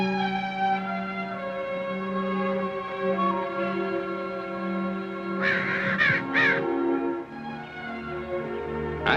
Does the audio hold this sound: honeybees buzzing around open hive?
no